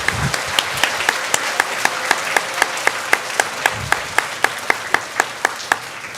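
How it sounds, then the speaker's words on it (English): A small audience claps in a steady, evenly spaced rhythm for third- and fourth-grade students at a school recognition ceremony, each clap crisp and close. "Let's give a round of applause to our third and fourth grade friends"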